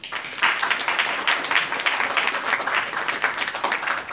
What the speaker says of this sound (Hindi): उसके लिए एक जोरदार ताली हो जाए